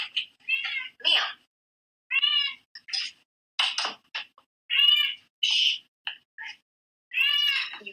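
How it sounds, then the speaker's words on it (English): Agitated house cat meowing repeatedly in short, close, fairly loud bursts with brief pauses between calls, and no talking over them. "My cat is going nuts"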